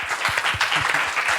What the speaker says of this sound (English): I wanted to ask all of you to welcome Lisa with a warm round of applause